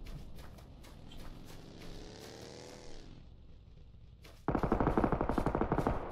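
Heavy automatic gunfire in the battle royale game PUBG Lite, a sustained rattling exchange of shots with a sudden louder, closer burst near the end, and no talk over it.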